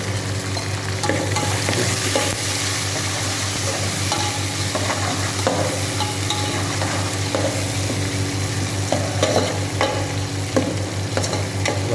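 Green chillies sizzle and fry in a pan while being stirred for upma, a steady close crackle with scraping strokes and small clicks of the spoon running through all twelve seconds, no voices.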